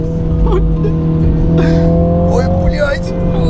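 Mini Cooper braking hard during a brake test, tires squealing over a loud, continuous engine drone, with agitated voices throughout.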